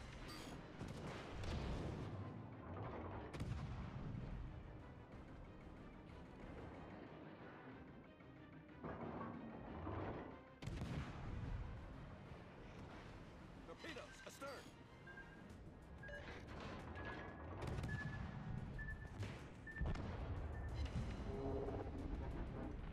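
Heavy naval gunfire in the warship game World of Warships, repeated booming salvos and rolling explosions over a rumbling sea-battle ambience, with someone talking over parts of it.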